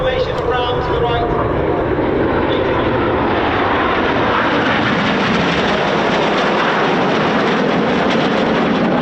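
Display team jets fly in formation over RAF Coningsby, a loud, steady roar of engines sweeping overhead throughout, with a commentator talking over the noise.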